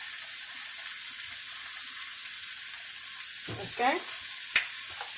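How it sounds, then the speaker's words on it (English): Minced garlic sizzles steadily in hot sesame oil for shrimp fried rice, a constant frying hiss with a brief stir and a short spoken word near the end. "I'm going to add just a little bit of minced garlic."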